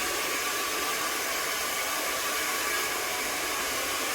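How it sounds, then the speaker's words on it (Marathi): A hair dryer blows air over a child's hair after a home haircut, a loud, steady rushing whoosh that holds constant from start to finish with no voices. "चली माऊ हवा मारते हवा केस काढते"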